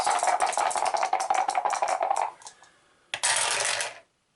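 A pair of dice rattle and clatter across a tabletop during an Arkham Horror board game turn, a dense run of small hard clicks and bounces, then a short pause and a second quick burst of rattling, close and clear without speech.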